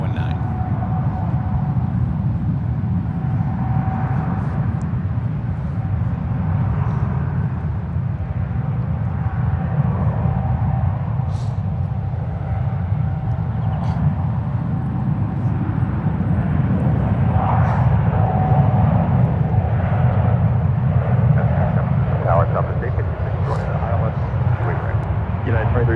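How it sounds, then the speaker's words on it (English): A Turkish Airlines jet on its takeoff roll at San Francisco International Airport, a steady distant engine roar that builds slightly over about 26 seconds, with faint voices underneath. "Turkish is on the roll now on 19."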